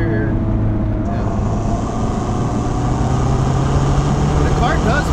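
A stock 2011 Mazda Speed3's turbocharged engine drones steadily from inside the car while driving, its tone slowly rising under acceleration, with voices talking over it.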